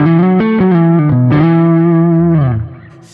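Distorted electric guitar on the neck pickup, played through a Kemper before any EQ, ringing a few thick, heavily saturated chords with effects and sustain that fade out near the end, loud and close with no voices.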